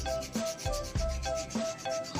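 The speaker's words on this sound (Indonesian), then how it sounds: "Langsung kita sikatkan." Rhythmic scrubbing of a brush over a rusty motorcycle exhaust coated in a Coca-Cola and paste mixture, close and steady, with about six back-and-forth strokes and no talking.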